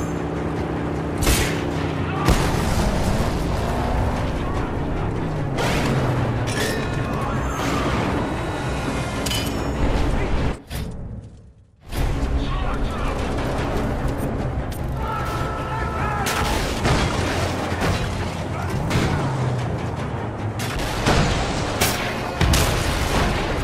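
Heavy explosions and bombardment from the Mad Max video game as Pink Eye's sanctum is pounded to rubble, a dense, loud, continuous roar of booms and blasts with one brief silent gap midway, game voices shouting over the din.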